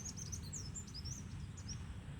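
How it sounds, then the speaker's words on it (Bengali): Small birds give quick, high chirps and tweets in scattered bursts, fairly faint above a steady low background rumble. "দেখলেন কি সুন্দর পাখির ডাকগুলো শুনুন।"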